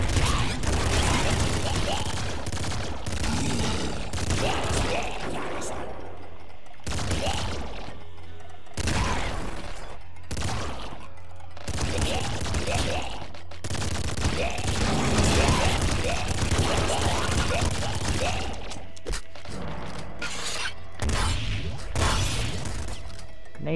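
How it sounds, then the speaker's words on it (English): Laser cannon shots in the video game Nuclear Throne blast over and over in rapid bursts, loud and relentless, mixed with explosions and other weapon fire in a chaotic, continuous barrage. "Laser cannon."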